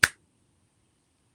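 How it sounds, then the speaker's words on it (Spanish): A single crisp finger snap, close and sharp, followed by near silence. "un chasquido"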